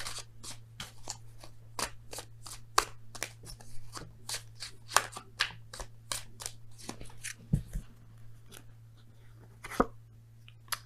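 Oracle cards shuffled by hand for a tarot reading, a rapid series of crisp riffling flicks and taps in quick bursts, close and fairly quiet against a low steady hum.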